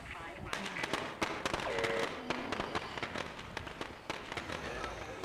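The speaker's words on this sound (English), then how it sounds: "Throw another firework." A firework is thrown in the video game Crash Landed: sharp crackling bursts and pops scattered across the clip, mixed with busy game effects and a steady background bed.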